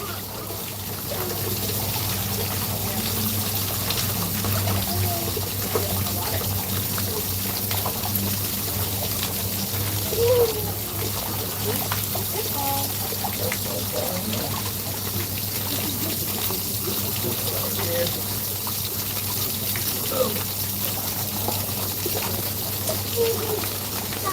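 Water from a waterfall at Cocoa Beach, Florida, pours and trickles steadily in a continuous, moderately loud wash, with a low hum underneath and faint background voices.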